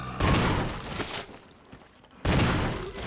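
Shotgun fire in Resident Evil Remastered, two loud, heavy booming blasts about two seconds apart, each with a decaying low rumble, close and prominent with no talking over them.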